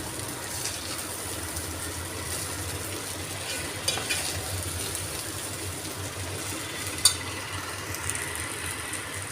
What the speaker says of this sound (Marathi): आणि हा असा परतून घ्यायचा आहे आपल्याला, मिक्स करायचं आहे छान.